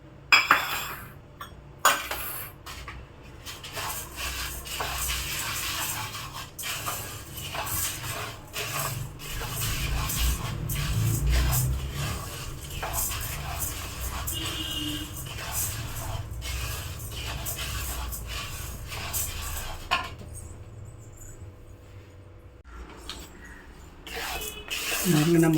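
Lentils dry-roasting in a pan with roasted gram and dried red chillies, heard as ongoing scraping and rattling of a utensil against metal, with light clinks and stirring rubs, fairly close and uneven.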